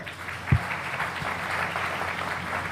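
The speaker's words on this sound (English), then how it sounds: "So please give a round of applause." An audience applauding at a Swaminarayan Mahotsav festival in Houston, a continuous, moderately loud roll of many hands clapping, with one sharp thump early on.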